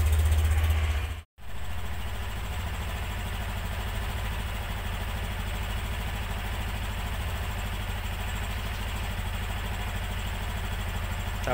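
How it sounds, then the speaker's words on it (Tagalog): A Honda Beat V3 Premium scooter idles while warming up before an oil change, giving a steady, close mid-pitched engine hum with one sharp drop out early on before it settles into an even running note. "Painitin natin at least 2 to 3 minutes. Idle lang muna natin siya."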